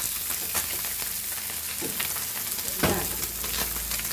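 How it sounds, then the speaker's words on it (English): Steady, dense sizzling of semolina-coated anchovies frying in hot oil, close and continuous, with occasional louder pops and crackles. "this frying fish or fried fish"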